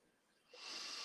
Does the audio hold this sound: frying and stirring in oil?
no